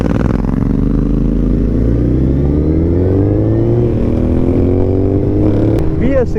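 A 2021 Suzuki Hayabusa GSX1300 Gen 3 with a full Akrapovic exhaust revs loudly and smoothly close by, the engine note rising steadily through several seconds, with a short sharp blip near the end.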